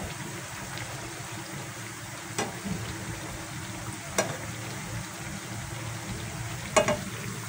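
Palm fruit pitha frying in hot oil until reddish, a soft continuous sizzle with occasional faint clinks of a utensil, fairly quiet and alone.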